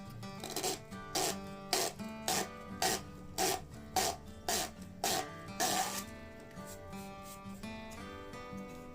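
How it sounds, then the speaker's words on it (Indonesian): Sandpaper rubs back and forth on a custom microfishing rod, making about a dozen rhythmic rasping strokes at close range before the scraping softens and trails off. "Diamplas dulu sampai rata."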